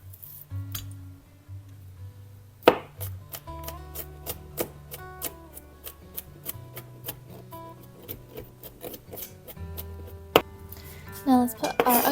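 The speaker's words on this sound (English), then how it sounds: "Right now we're going to smash and peel and chop" Garlic cloves are smashed, peeled and chopped for an allergy-friendly soup, giving a run of sharp knife taps on a board, some quick and rhythmic, with a heavy smash thump and a few rustles between; no one speaks.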